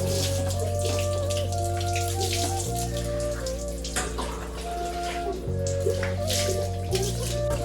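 Water poured and splashing during a bath, a continuous close splashing wash with dripping patter, steady and fairly loud throughout with no talk.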